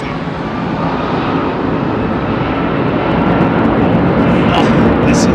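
A Boeing 747, an ex-KLM Combi freighter conversion at Heathrow, roaring loudly with its jet engines spooling up, a thick, continuous broadband rumble and hiss close by that swells slightly over a few seconds.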